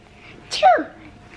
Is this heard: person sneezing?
yes